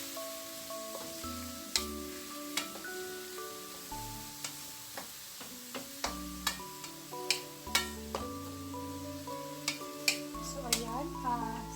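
Brown sugar stirred into adobong sitaw (string bean adobo) with vinegar in a pan, giving a soft steady sizzle with repeated scraping clicks and taps of the spoon, and some talk over it.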